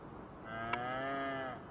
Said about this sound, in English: That's what we have, are 3 Angus cows.